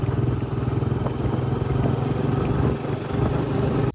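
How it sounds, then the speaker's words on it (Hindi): A motorcycle being taken out toward farm fields, its engine running close with a rapid, slightly clattering throb that holds steady for about four seconds before cutting off abruptly, no talk. "बाइक अपना निकाल लिया जी"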